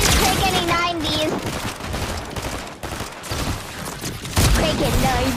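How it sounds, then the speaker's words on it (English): Rapid bursts of gunfire in a Fortnite-style shooter game, dense and loud throughout, with excited voices talking over the shots. "I'm gonna shoot him."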